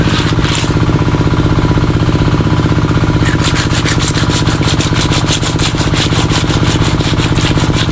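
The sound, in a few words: scraping mudfish (dalag) to remove slime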